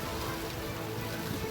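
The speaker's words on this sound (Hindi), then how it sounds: "अब यहाँ इतनी बारिश हो रही है कि बाढ़ जैसे हालात बन गए हैं।" Heavy rain pours steadily in a town in Rajasthan, a dense, even hiss of falling water with no breaks, close and loud throughout.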